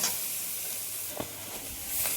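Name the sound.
tomatoes sizzling in oil with cumin paste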